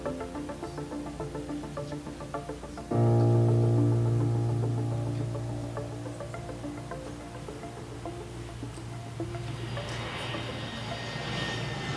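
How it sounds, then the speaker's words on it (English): Low-flying airplane sound effect in a stage production of The Giver: a sudden loud, droning engine roar comes in after quiet ambience, holds steady, then slowly fades while staying audible to the end, with no talking. "The low-flying airplane seen over the community"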